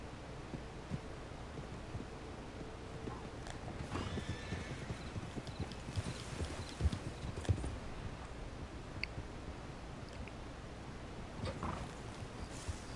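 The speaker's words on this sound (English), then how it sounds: "Yes, some horses running away." Horses galloping away in Red Dead Redemption 2, a faint scattered clatter of hoofbeats with an occasional whinny over a low background hum, sounding distant and quiet.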